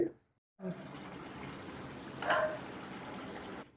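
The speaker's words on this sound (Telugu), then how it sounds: "ఇప్పుడు ఫిఫ్టీ ఎంఎల్ వాటర్ కూడా యాడ్ చేసుకుందాం" About 50 ml of water is poured into a pan of tomato rice cooking on the stove, making a steady, close hiss and sizzle for roughly three seconds after a brief pause, with a faint voice at the start.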